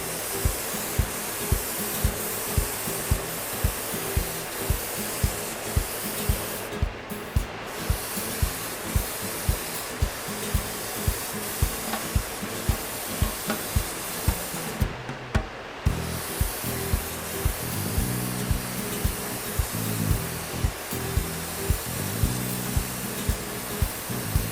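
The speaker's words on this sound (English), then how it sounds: "I'll be using the TH airbrush to get even coverage." A TH airbrush spraying blue custom paint gives a continuous close hiss, overlaid with regular soft ticking pulses and two brief dropouts when the spray pauses.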